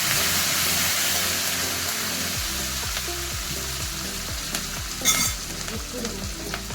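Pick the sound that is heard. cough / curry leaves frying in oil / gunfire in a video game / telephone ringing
curry leaves frying in oil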